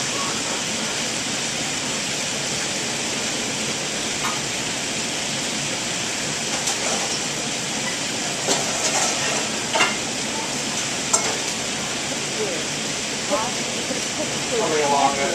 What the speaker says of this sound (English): I'm just going to let this blend away,